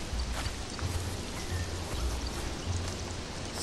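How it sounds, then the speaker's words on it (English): Steady rain falls in the video game Conan Exiles, a dense, even hiss with soft low rumbles that continues without pause throughout. "It's always raining, of course."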